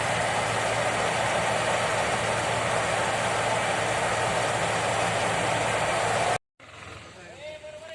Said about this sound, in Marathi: हे बघा, हा ट्रॅक्टर आहे आपल्या पिंटू दादाचा